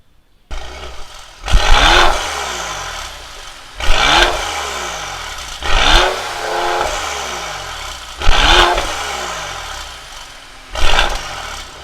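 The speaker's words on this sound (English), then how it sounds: "Now we'll hear the exhaust note." A Mercedes-AMG GLE 43 Coupe SUV with quad exhaust revs repeatedly, about five strong bursts of throttle at steady intervals, each dropping back to a deep idle rumble.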